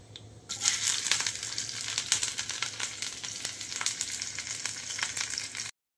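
Garlic and slit chillies sizzle in hot oil, a dense crackling fry that starts abruptly after a brief quiet moment and continues steadily with small pops throughout, close and fairly loud.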